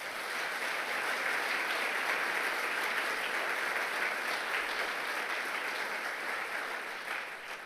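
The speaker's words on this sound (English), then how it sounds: "how about one more round of applause for all of our award recipients?" Sustained applause from a large audience at a university opening-day address, honoring award recipients; dense, steady clapping that holds evenly for the whole stretch before tapering slightly at the end.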